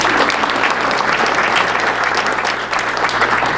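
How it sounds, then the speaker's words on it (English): An audience at a home builders association general membership meeting applauds Mark Nix, a dense, loud burst of clapping that holds steady for a few seconds. "give him a round of applause"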